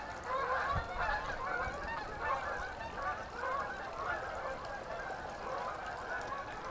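Geese honk steadily overhead as a flock passes between ponding basins near a garden, a dense, continuous chorus of overlapping calls at moderate distance with no talking.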